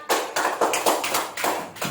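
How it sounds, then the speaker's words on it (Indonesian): Steady hand clapping, about eight crisp claps at an even rhythm, close by with no talking. "Tepuk tangan"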